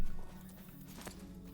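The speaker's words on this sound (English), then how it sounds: "Interesting horse." Horse hooves clip-clop in The Lord of the Rings Online, a short run of soft, fairly quiet footfalls over a low game-music bed, with no talk.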